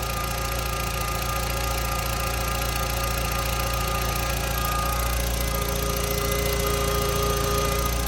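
A car engine idles steadily with a PCV catch can and oil-separating puck routed back into the air intake, giving a continuous mid-pitched hum with faint knocking and vibration throughout, close and even in level, with no talk.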